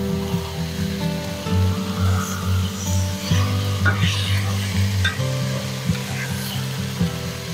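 Shallots sizzle and brown in a pan, a steady frying hiss running throughout, with occasional scrapes and stirring clatter as they are pressed into a single layer; a constant low hum sits underneath.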